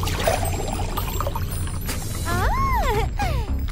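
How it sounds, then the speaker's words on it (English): Water and glitter are poured into an emptied jar in a steady, close pour with sloshing and glassy clinks. A swooping, tonal whistle-like sound rises and falls partway through. "Empty a jar. And fill it up with glitter and water."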